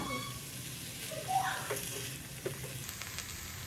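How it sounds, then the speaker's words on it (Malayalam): Chicken noodles tossed with a fork in a hot pan give a steady, close sizzle with faint scraping and occasional small clinks throughout. "നൂഡിൽസ് ചേർത്തതിന് ശേഷം ഇതുപോലെ നന്നായി ഇളക്കി മിക്സ് ചെയ്യണം. ഫോർക്ക് ഉപയോഗിച്ച് നമുക്ക് മിക്സ് ചെയ്യാവുന്നതാണ്."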